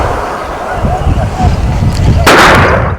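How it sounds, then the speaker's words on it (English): Gunfire from inter-community violence on the outskirts of Olposumoru, with rough crackling bursts amid background commotion and a sharp loud blast near the end. "Gunshots and shrieks rent the air in Tipis on the outskirts of Olposumoru."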